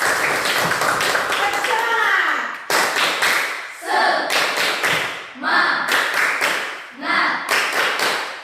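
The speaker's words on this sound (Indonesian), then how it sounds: "Tepuk tangan dulu untuk Jesslyn" Classroom of students clapping for a classmate, loud close bursts of hand claps arriving in several separate rounds with short gaps between them.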